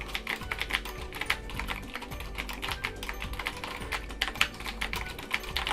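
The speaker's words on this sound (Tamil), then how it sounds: "இப்போ நீங்கள் டைப் பண்ணுங்கள்." Rapid, steady typing on a computer keyboard, a dense run of close, crisp key clicks with no talk over it.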